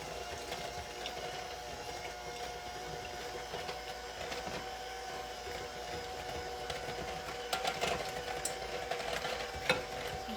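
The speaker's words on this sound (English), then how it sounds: "Going to mix this up really quick" Almond poppy seed muffin batter being mixed with a steady, continuous mechanical whir, likely an electric mixer, running close and fairly constant with a few louder clatters near the end.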